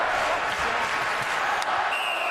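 A sold-out crowd at Madison Square Garden cheering and applauding a New York Rangers goal in a hockey game against the Flyers, a steady roaring wash of noise with faint voices mixed in.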